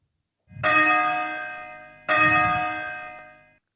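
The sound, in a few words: simulated bell ringing from online app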